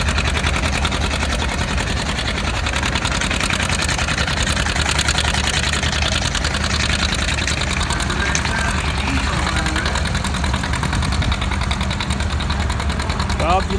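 A two-cylinder diesel tractor engine runs loud and close at an outdoor tractor show with parades and pulls, its steady thumping rumble continuous throughout while people talk nearby.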